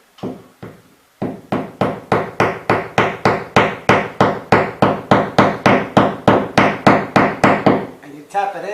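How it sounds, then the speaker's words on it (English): A steady series of sharp hammer taps repeats rapidly and evenly, loud and close, after a couple of slower initial strikes, as a small hammer taps a wall anchor into a garage wall. "This little hammer will go slowly."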